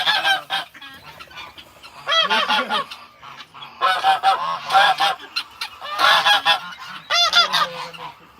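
Geese honk repeatedly at an animal sanctuary, loud nasal calls in irregular bursts separated by short pauses, close by and without talking.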